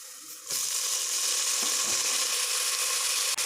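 Fresh greens drop into hot oil tempered with onion, setting off a sudden loud, steady sizzle that continues without a break, with a few faint stirring knocks underneath.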